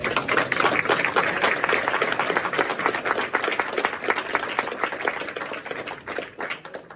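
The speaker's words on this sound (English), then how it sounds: "Give a round of applause for the education department" A room full of people claps loudly and continuously at a meeting, the applause close and dense with distinct individual hand claps poking through, tapering a little near the end.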